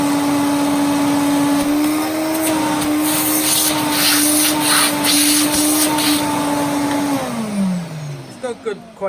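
A refurbished Electrolux 347 vacuum cleaner runs with a loud steady whine and droning hum, then winds down near the end as the motor pitch falls away.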